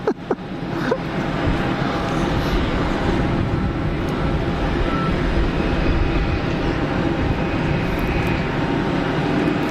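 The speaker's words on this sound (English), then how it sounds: "that's a good looking aircraft too" An Airbus neo airliner at Geneva Airport produces a loud, steady engine roar that holds evenly after a brief sharp start, with no voices.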